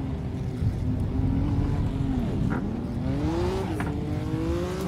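A TVR Cerbera Speed 12 accelerating on a road, its engine droning with pitch sweeping up and down through gear changes, heard steadily from inside the car.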